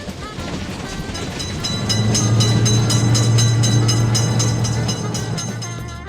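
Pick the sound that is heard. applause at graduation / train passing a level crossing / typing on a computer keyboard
train passing a level crossing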